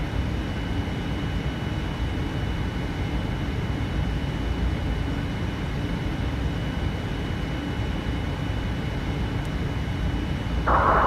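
An airliner taking off from London Heathrow in the Prepar3D flight simulator, a steady loud roar of jet engines and rumble that holds constant throughout, with a brief brighter burst at the very end and no voices.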